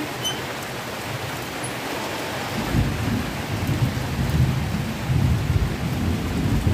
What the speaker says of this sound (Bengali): বাইরে বৃষ্টি নেমেছে